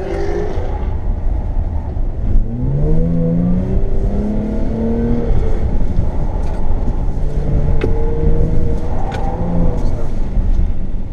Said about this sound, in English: Ooh, that exhaust noise.